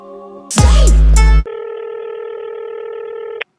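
Telephone dialing tones play loudly and close: a few tones, a louder burst, then a long steady tone that runs to the end.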